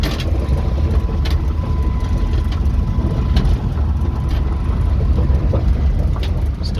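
Engine of a Caravan minivan on a drive, a loud continuous low rumble with road noise and a few faint clicks and rattles inside the cabin.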